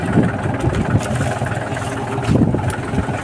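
A loaded farm tractor's engine runs steadily nearby, a loud continuous low rumble with slight throbbing swells and no pauses.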